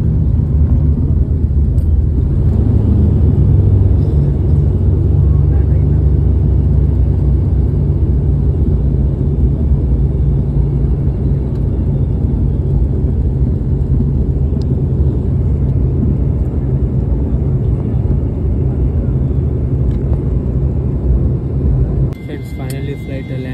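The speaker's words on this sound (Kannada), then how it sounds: "ಫೈನಲಿ ಫ್ಲೈಟ್ ಲ್ಯಾಂಡ್ ಅಂತ" Steady loud cabin rumble and engine whir inside a passenger airplane as it lands on a Hubli to Bengaluru flight, a low continuous drone that drops off sharply near the end.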